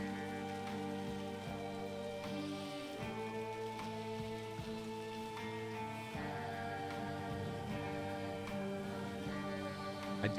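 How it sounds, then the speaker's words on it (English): Rain falls steadily in the Silent Hill f video game, a faint even patter beneath a droning, tonal background. "I do love the rain."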